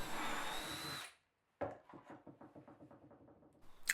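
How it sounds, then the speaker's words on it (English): A power drill drives 40mm screws into pre-drilled, countersunk wooden ribs: a short whirring burst, a moment of silence, then a regular series of quick knocking clicks, fairly faint. "I'm pre-drilling and countersinking each hole, and then I'm putting some 40mm screws in"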